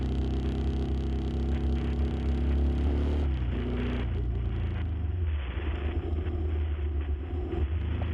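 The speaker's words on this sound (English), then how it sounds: "able to ride freely at a fast pace, the wind hitting your body" Steady rushing wind and low road rumble while riding at a fast pace along a road, loud and continuous throughout with no talking.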